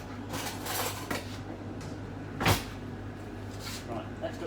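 In a cold home kitchen, someone reaches for a knife; faint cutlery and dish clinks sound over a steady low hum, with one sharper clatter midway and soft rustles around it.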